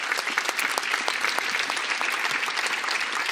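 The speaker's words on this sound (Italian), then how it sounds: "vorrei un applauso anche per Anna e Damiano di Alcantara" Theatre audience applauding at a commemorative celebration, a steady dense patter of many hands clapping close and loud, with no talk over it.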